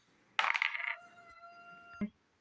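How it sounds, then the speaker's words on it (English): Two six-sided dice and a scatter die are rolled onto a tabletop during an American Civil War miniatures wargame, giving a sharp clattering burst that tumbles and rings briefly before a final click as they settle. "2d6 and a scatter dice."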